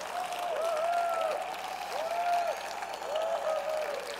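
Congregation applauding during a worship gathering: a dense, continuous patter of clapping from a crowd, moderately quiet, with a voice singing or calling out in long tones over it.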